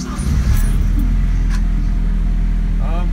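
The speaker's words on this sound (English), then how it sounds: "So I'm gonna go ahead and turn the car on. And I can hear the pump run for a few seconds" A Porsche 944 cold-soaked overnight, fitted with an F9Tech solid state DME relay, cranks and fires, then settles into a loud, steady low engine rumble close by, with a faint voice near the end.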